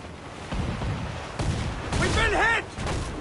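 Cannon fire from an enemy ship during a naval battle in Assassin's Creed IV Black Flag: repeated heavy booming blasts amid shipboard chaos, with voices calling out over the noise.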